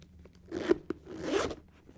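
A zipper on the inside compartment of a Chic Sparrow Denali leather bag is drawn open in two close, raspy pulls separated by a small tug, heard nearby against a quiet room.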